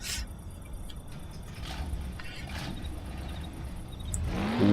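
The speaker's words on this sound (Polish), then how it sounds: "Wow, fajny dźwięk silnika." An English car engine in the video game Mafia, heard as a mid-pitched motor whirring and revving steadily, then swelling louder toward the end.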